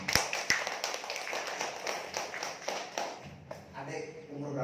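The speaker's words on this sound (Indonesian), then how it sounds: "Tepuk tangan untuk Bapak Ibu sekalian." An audience at an Islamic religious gathering in Purwokerto claps hands, a loose run of sharp taps and claps that thins out, with people talking toward the end.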